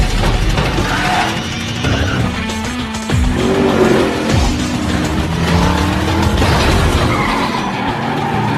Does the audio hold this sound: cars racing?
yes